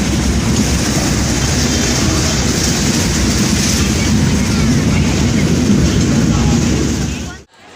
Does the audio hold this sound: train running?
yes